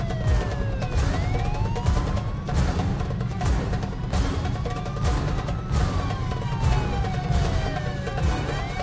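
A police siren wails in repeated rising and falling sweeps over a loud, dense background of rumbling and banging, with no voices.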